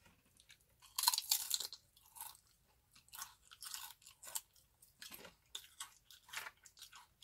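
Close-up crunching and chewing of a honey butter cheese snack, with one loud crisp bite followed by steady rhythmic mouthfuls of crunchy chewing, alone without talk.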